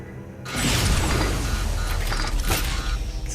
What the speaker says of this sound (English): Man, I love the sound the proton pack makes when it like reloads.